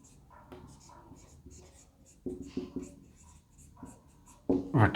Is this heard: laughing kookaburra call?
no